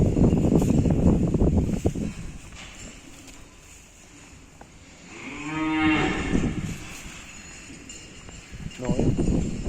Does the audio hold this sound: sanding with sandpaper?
no